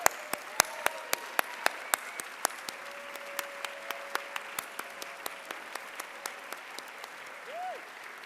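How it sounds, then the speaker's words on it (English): An audience applauds the helpers behind a GirlPower show, with loud, sharp individual claps near the front ringing out in a steady rhythm over a bed of crowd clapping, and a voice breaking in briefly at the end. "I just want them all to stand up so I can give them a round of applause for helping us make this show"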